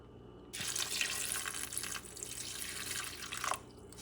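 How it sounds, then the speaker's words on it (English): Water gushes steadily from a tap into a cooking pot for a few seconds, then cuts off abruptly, leaving a faint background hum. "And you're going to put some water."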